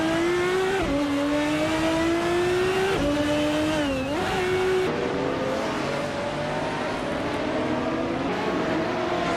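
Race cars in a racing video game, among them a 1995 McLaren F1 GT, rev and accelerate with a steady droning engine whine that climbs in pitch through upshifts. Loud and continuous, with no voices.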